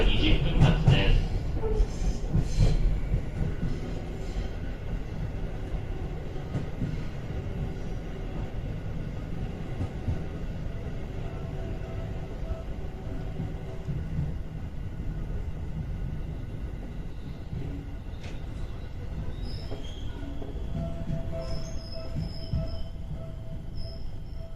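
A Seibu Toshima Line train departs Toshimaen station with a low, steady rolling rumble and faint wheel squeal, heard quietly from the front of the train, with no speech.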